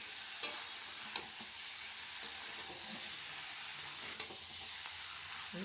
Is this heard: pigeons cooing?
no